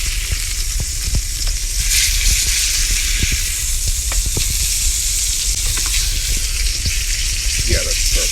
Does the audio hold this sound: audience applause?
no